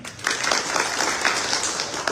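Crowd at a political rally claps together in a short, dense burst of applause lasting about two seconds, with no voice over it.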